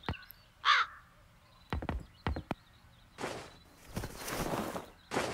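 One crow caws in the video game Satinavs Ketten, followed by a few sharp knocks and then stretches of rustling, scraping noise, all moderately quiet and with no speech.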